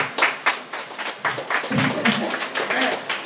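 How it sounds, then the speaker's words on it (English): Audience applause breaks out at a live talk event, starting as scattered separate claps and building into a short, steady round of clapping, close and fairly loud. "Y'all give them a round of applause."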